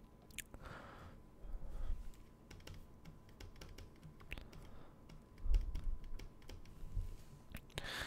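Numbers being keyed into a calculator while working out a current ratio, a quiet, uneven run of soft clicking taps at close range with brief pauses between bursts, no talking over it.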